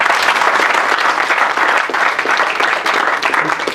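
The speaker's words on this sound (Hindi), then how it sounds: "एक बार ताली बजाइए अच्छे से" Audience applause at a motivational startup talk, dense steady clapping from a large crowd throughout, loud and close with no voices over it.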